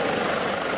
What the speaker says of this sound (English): This is the sound of the chopper as New Jersey's governor was taking an aerial tour of his state's devastated